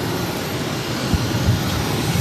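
A JetBlue Airbus A321 jet taking off from Boston Logan, heard as a steady, distant low roar of engine rumble filling the background without talk.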